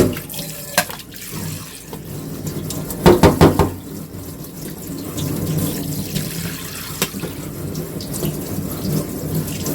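Tap water runs steadily into a kitchen sink while oysters are rinsed, a close continuous splashing stream with a few brief louder clatters partway through.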